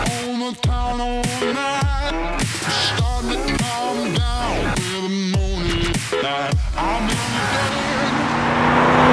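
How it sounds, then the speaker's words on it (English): A 1977 Holden HZ Sandman car drives along with a close, loud engine note that rises and falls repeatedly through gear changes, growing louder toward the end. "Today we are driving my 1977, I think it is, HZ Sandman."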